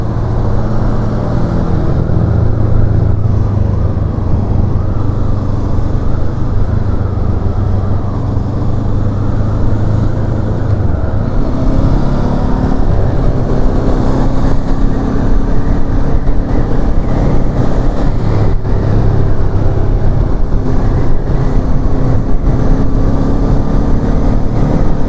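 Honda CL500 Euro5 2023 motorcycle engine pulling hard under acceleration on a road test ride, a loud, continuous drone with rising and falling pitch, steady throughout with no talk.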